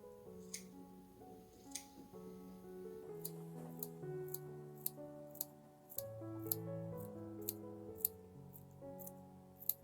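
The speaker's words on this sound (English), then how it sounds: "here I am getting in a little snipping" Scissors snip fabric for a rag quilt. The cuts come as a faint, steady series of crisp snips over soft background music.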